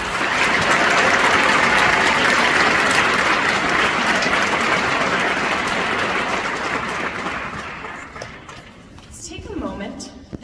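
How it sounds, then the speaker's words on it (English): A graduation ceremony audience gives teachers a big round of applause, loud and dense clapping that swells early, holds, then gradually thins and fades out, with a speaker's voice returning at the end. "Let's give them a really big round of applause."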